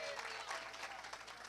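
Church congregation applauding for Jesus during a Sunday sermon, a faint, dense wash of clapping from many people in the hall, heard briefly and at low level.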